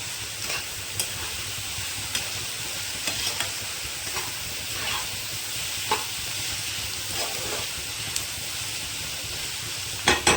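Ground spices, cumin powder among them, stirred and frying in a pan for bori posto, a steady close sizzle with scattered scraping strokes of the spoon throughout, no voices.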